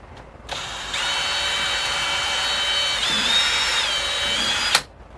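A power drill whines steadily at high speed for several seconds while working leather, its pitch shifting slightly midway, then cuts off abruptly.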